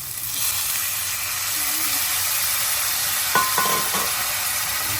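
Chapila fish frying in a pan, a steady broadband sizzle throughout with a brief clatter of utensils near the end; a voice is faintly present under the frying.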